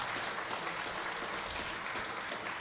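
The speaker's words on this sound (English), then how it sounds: "We can clap for" After an answer at a congressional debate, the audience claps in a steady, moderately distant burst of applause.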